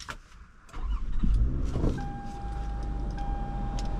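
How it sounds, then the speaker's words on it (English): A 2009 Toyota Camry XLE V6 fires up: a short starter burst, then a smooth, steady low idle hum with a faint whine, heard close with no talking. "the V6 just starts up so nice and smooth"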